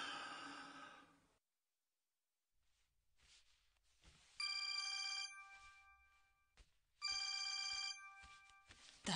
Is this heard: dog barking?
no